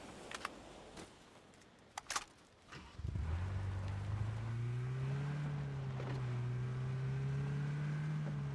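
Vehicle engine in PUBG starts up after a few clicks and knocks, then settles into a loud, steady low drone with slowly rising pitch as the car drives.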